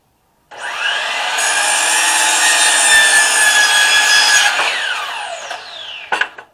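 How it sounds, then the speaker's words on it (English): A 12-inch slide miter saw cuts through two wooden legs at once for a backyard potter's bench, a single loud, sustained whine of about four seconds that winds down as the blade stops, ending with a couple of sharp clunks. "Because this is a 12-inch slide saw, I can cut both of them at 36 at the same time."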